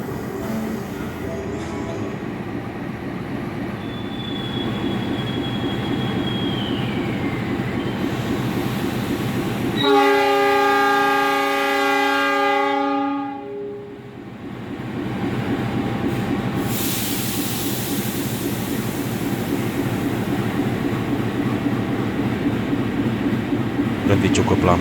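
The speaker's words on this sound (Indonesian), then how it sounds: "Masuk stasiun Cirebon, kereta api Harina dari arah Surabaya Pasar Turi." Harina passenger train pulling into Cirebon station from Surabaya Pasar Turi, its locomotive in a special Christmas and New Year livery, with a loud sustained multi-tone horn blast midway over steady rolling rail noise and a busy station background.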